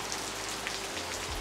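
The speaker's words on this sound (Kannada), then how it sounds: "ಮೂರು ನಾಲ್ಕು ದಿನ ಆಯಿತು ಧಾರಾಕಾರ ಮಳೆ" Heavy monsoon rain pours steadily in a coastal Karnataka village near Mangalore, a dense, even hiss of drops striking surfaces without pause, with a faint low rumble underneath.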